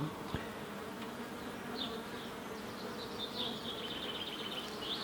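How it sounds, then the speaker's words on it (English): Honeybees at an open beehive with larvae in the comb, a close, steady buzzing drone with a few louder passes of single bees near at hand, otherwise quiet. "there's a little bee there"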